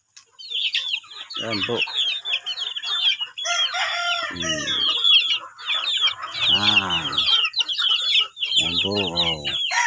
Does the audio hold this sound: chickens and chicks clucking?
yes